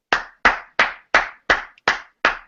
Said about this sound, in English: I got to clap on that one.